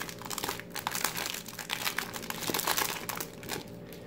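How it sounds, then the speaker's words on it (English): A 1993 Fleer football card pack wrapper being torn open and handled, giving steady close crinkling and crunching foil-plastic rustle throughout, with no talk. "open the pack and look at the cards."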